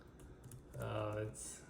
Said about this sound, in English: using the keyboard, it has a nice feel to it. It makes a nice clicky sound.